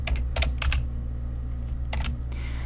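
Keystrokes on a computer keyboard come as two short bursts of a few quick clicks each, close and clear over a steady low electrical hum, with no speech.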